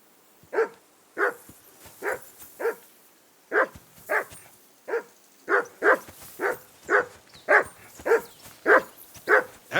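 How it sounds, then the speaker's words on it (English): A dog in the video game Kingdom Come: Deliverance 2 barks insistently, about sixteen sharp, evenly spaced barks in a steady rhythm, close and clear with no talk over them. "Whistle at that mutt of yours to stop barking."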